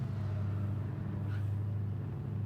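Race car in a racing video game at Interlagos rolling into the pit lane, a steady low engine drone with a constant hum, no revving peaks, continuous and fairly close throughout.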